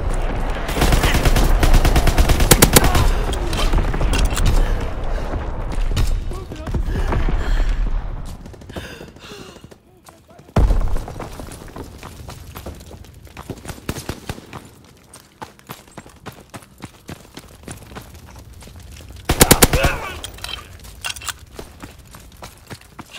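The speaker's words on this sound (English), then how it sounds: "Incoming enemy artillery. Get to cover." Enemy artillery and gunfire in a WW2 online shooter game, with dense rapid shots and explosions rolling continuously at first, then thinner scattered shots and a couple of loud bursts later on.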